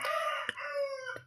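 A rooster crows nearby by a village kitchen in Kerala, one long drawn-out call ending the clip, with a couple of short knocks in the background.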